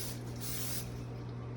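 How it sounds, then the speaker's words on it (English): Cooking spray hisses steadily onto a frying pan in a short, continuous burst of close, bright spray noise over a low electrical hum, with no talk. "Lightly with cooking spray, just spray the bottom of that pan."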